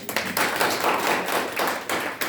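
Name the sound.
audience applause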